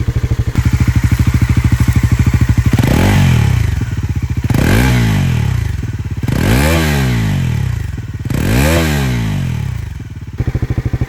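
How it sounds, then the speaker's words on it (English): Loud, close exhaust note of a Bajaj Pulsar NS400Z 400cc motorcycle with an underbelly muffler, idling steadily, then blipped through four sharp rev rises and falls before settling back to idle. "This is an underbelly exhaust like the NS, so it sounds like the NS at this point."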